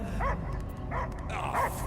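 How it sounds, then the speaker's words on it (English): Dogs bark repeatedly over a continuous low droning background in the Guardians of the Galaxy video game, with several loud yelping barks spaced across the moment. "I hear only barking."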